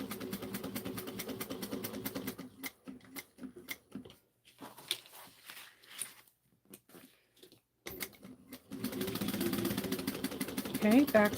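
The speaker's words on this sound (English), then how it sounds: "I'm going to sew going down, and I'm going to back stitch off each one of the slots so I can have just a reinforced stitch" A sewing machine back stitching reinforcement seams on a Miranda tote bag, whirring in rapid stitching bursts that stop and restart, with a voice talking over parts of it.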